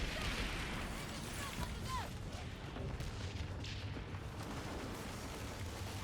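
Naval cannons fire from sailing ships during a Skull and Bones battle, making dense booms and crackling blasts over a constant roar of wind and water, with faint talk underneath.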